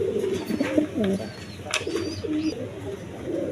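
A pair of Kaldom pigeons coo in low, repeated throaty phrases close by, with faint chirps and background voices at a pigeon seller's stall.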